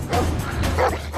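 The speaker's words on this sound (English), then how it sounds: "these Belgian Shepherds are lean, very mean, fighting machines" Belgian Shepherd police dogs of a Durban dog unit barking and yipping in a quick close burst, loud and busy over a low steady hum.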